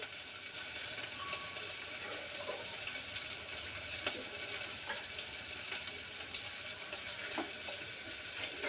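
A steady, dense hiss of water bubbling in a hot frying pan, with faint scattered clicks and knocks over it.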